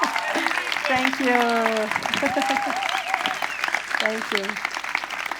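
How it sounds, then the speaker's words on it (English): A festival audience applauds at the end of a talk, a dense, steady wash of clapping while a nearby voice speaks over it. "Let's first have an applause for Juliana."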